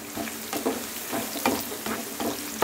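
Sliced ridge gourd frying in oil in a pan, a quiet steady sizzle with soft periodic clicks and scrapes as the pieces are stirred, recurring roughly every half second.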